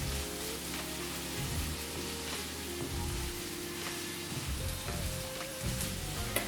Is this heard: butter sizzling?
yes